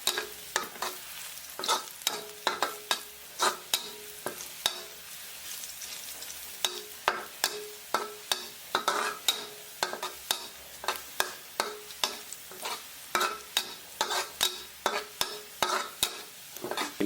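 Garlic and shallots fry in a pan of oil, with a constant low sizzle under frequent sharp scraping strokes of a spatula, close and rhythmic, briefly pausing partway through.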